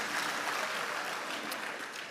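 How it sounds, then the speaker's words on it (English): Faint, distant applause from a conference audience at an annual vitamins and minerals conference, a soft continuous patter of clapping that tapers slightly. "can you give yourselves a big round of applause?"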